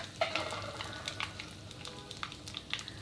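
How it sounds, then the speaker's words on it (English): Mustard seeds splutter in hot oil with cumin seeds added, giving a close, continuous sizzle broken by sharp crackling pops at irregular intervals. "Once they begin to splutter, we'll add cumin seeds or jeera"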